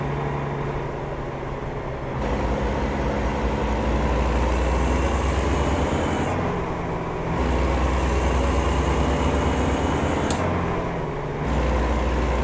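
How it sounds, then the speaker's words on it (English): A heavy truck in a driving video game, engine and exhaust volume turned all the way up, drones with a deep steady rumble while a higher whine rises and drops in several surges as the engine revs between shifts. "if you can turn the engine sounds all the way up, and then I turned the exhaust sounds"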